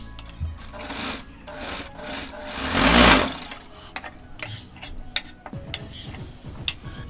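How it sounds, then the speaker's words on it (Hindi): A sewing machine stitches pleats on a fabric face mask in close bursts of rapid mechanical ticking, with one louder, longer run midway and light fabric-handling clicks around it. "इसी तरह हम यहाँ पे भी प्लेट्स पे सिलाई लगा देंगे।"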